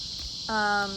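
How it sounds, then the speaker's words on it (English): Cicadas drone outdoors in a loud, steady, high-pitched buzz that runs unbroken throughout, with a voice speaking briefly over it. "They're so loud. These cicadas."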